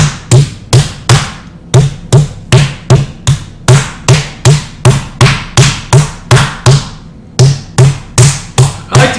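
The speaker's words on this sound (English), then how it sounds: "once you've got those pounded out a little bit" Chicken breasts being pounded flat under plastic wrap give a steady run of loud, close thuds, about two per second, with brief gaps and no voices.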